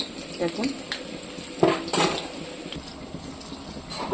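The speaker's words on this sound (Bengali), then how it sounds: "এরকম করে আমি বড়াটা ভেজে নেব।" Green pea fritters fry in a pan with a soft sizzle, while a utensil clinks and scrapes against the metal a few times, loudest near the middle.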